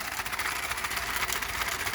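A homemade solenoid motor runs continuously, giving off a quiet, rapid, even buzzing clatter with no other sounds.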